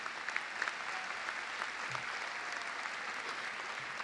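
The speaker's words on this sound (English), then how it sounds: "Could you give them applause, please?" Audience applause at a 2019 high school commencement ceremony, a steady wash of many hands clapping at moderate distance, sustained and even throughout without voices.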